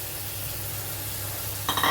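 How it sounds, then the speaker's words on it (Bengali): Taro, potato and pointed gourd fry together with spices in a pan for a Bengali vegetable curry, giving a steady close sizzle that grows louder near the end as stirring starts. "সবগুলো একসাথে ভাজা হতে সময় লাগবে, তাই একসাথে দিয়ে দিলাম"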